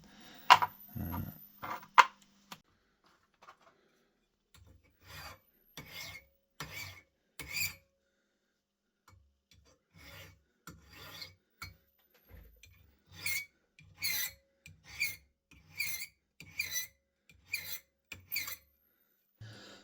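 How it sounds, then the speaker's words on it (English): A metal file rasps on a steel pistol mainspring in short strokes, pausing now and then, then speeding into a steady rhythm of scraping passes, close up and fairly quiet. "I'm going to use a file to take off some material from the top of the spring"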